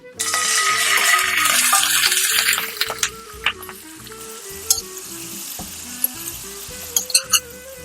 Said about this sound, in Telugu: ఇవి కొంచెం హీట్ అయిన తర్వాత దీంట్లోకి చికెన్ వేసేద్దాం